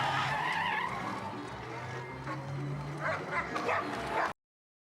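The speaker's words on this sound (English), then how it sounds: "Sophie sends a tied-up dog after him" A dog barking and yipping in a film scene, several sharp barks mixed with vehicle noise and tire skids, moderately loud with faint voices.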